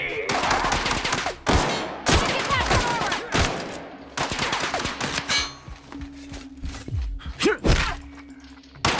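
Loud gunfire in the action role-playing game The Outer Worlds cracks in dense bursts and single shots throughout, mixed with thumps and impacts, while players talk briefly over the combat.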